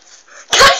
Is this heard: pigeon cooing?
no